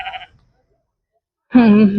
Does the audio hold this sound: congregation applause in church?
no